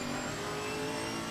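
A Chevrolet Camaro GT4.R race car at Monza in the racing game Assetto Corsa Competizione revs hard under acceleration, a loud, steady, close engine drone with a high whine and no voices.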